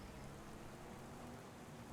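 Steady in-game rain in Farming Simulator 25 hisses evenly throughout, a soft, continuous patter with no voices.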